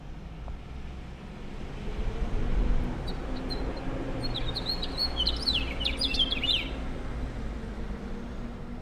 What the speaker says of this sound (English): so you can hear the bird, but then you can also hear there's a bus